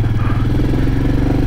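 Royal Enfield Meteor 350 motorcycle setting off on a ride, its single-cylinder engine producing a steady, loud, close pulsing thump with mechanical clatter throughout.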